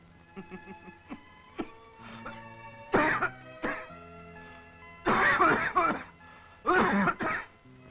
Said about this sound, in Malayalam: ഈ ചുമ അത്ര ശരിയല്ല.